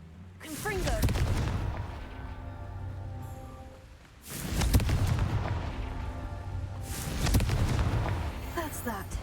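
Confringo fire spells burst in the Hogwarts Legacy video game, three loud rumbling explosions spaced a few seconds apart, each with a heavy boom that slowly dies down.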